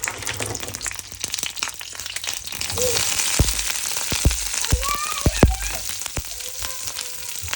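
Food sizzling in hot mustard oil in a pan, a steady crackling fry throughout with several sharp spatters and utensil taps standing out near the end, fairly loud and close.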